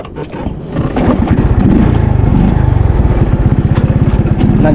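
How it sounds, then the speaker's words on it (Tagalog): Motorcycle with a dead battery idling unevenly, a loud, close, rapid low putter that pulses rhythmically and sputters, running steadily throughout. "Nagluloko pa tong motor."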